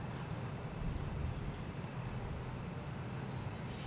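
A United Airlines Boeing 737 MAX 9 jet departs Boston Logan for Denver, a steady distant broadband roar holding at an even, fairly faint level throughout.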